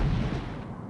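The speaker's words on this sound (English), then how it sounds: "Our phaser fire missed." Phaser fire erupts during a Star Trek: The Next Generation – A Final Unity space battle against a Romulan warbird, heard as a loud, brief, rumbling low blast that fades slowly, with no voices.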